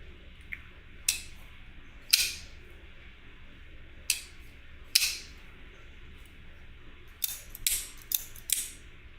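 Folding knife with a washer pivot and a scraping detent ball, its blade flicked open and shut in a series of sharp, close metallic clicks and snaps spaced irregularly over quiet background.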